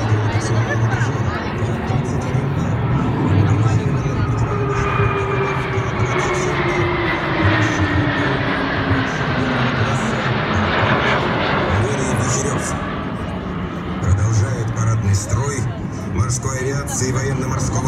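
Military helicopters, including an early-warning radar helicopter, fly over a naval parade in Kronstadt, a steady broad rotor and engine roar sweeping past continuously for the whole stretch, with a crowd murmuring beneath.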